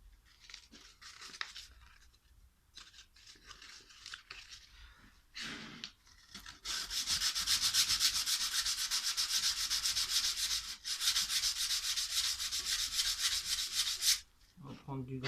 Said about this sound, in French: il va falloir remettre un petit coup de ponçage en plus